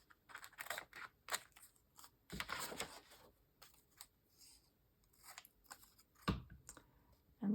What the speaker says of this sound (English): Let me see if I can cut this straight, right?